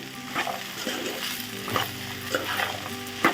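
Okra and dried prawn curry being stirred in a pan, a soft sizzle under intermittent spoon scrapes and clinks against the pan, close but fairly quiet.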